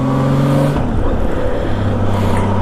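A 1998 Honda Goldwing SE motorcycle under way, its smooth engine droning steadily with a pitch shift as it changes speed, heard close over road and wind noise.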